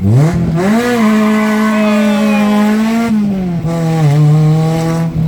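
An AWD Honda Civic EM2 with a CRV rear differential upgrade does a burnout, its engine revving hard and close in a loud, sustained climbing drone that holds, dips briefly, then surges again.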